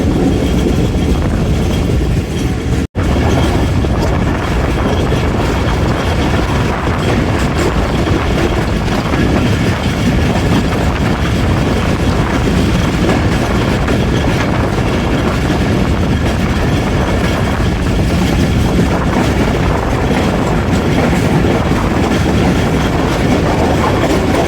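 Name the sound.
Awam Express passenger train running, Rawalpindi to Lahore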